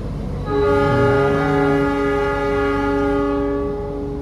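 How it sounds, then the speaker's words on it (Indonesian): A long, loud horn from the Arjuna Express train departing Bangil station, a rich steady blare held for several seconds over a low rumble of the train. "Kereta api Arjuna Express masih menunggu ini."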